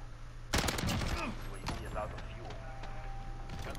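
Rapid bursts of automatic gunfire from a video game shooter, loud and close in a dense volley, then thinning to scattered shots under an excited player's voice.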